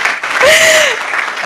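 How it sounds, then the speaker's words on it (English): Audience clapping at a literary event in Nairobi, a short dense burst of applause, close and loud, with a brief voice over it. "Clap for Wanjeri."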